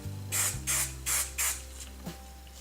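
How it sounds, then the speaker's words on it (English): Four short bursts of hairspray in quick succession, close and fairly loud, over a low steady hum. "I use hairspray all throughout this process"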